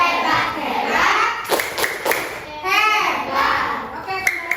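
Schoolchildren in a classroom doing a rhythmic group clap, sharp unison claps falling in a set pattern while the kids chant along together and a teacher's voice leads.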